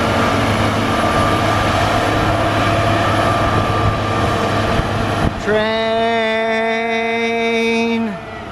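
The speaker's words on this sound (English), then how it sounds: "we got a sight of the cog. There's the cog." A cog railway train on a mountain rumbles steadily, then lets out a loud, sustained horn blast that holds for a few seconds before cutting off, heard from some distance outdoors.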